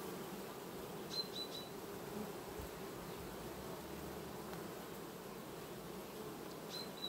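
A steady, faint hum of honeybees buzzing at an open hive in August, with a few brief higher-pitched tones rising above the drone.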